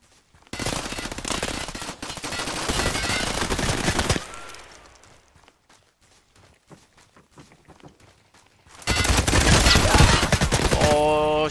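SCAR rifle fire in the shooter game Hired Ops: dense rapid bursts of automatic gunfire, loud and close, then a few seconds of scattered quieter shots and steps before another long sustained volley.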